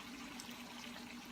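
Water poured into a pot of pork adobo with bay leaves and chili powder, a steady close trickle with a faint hum underneath.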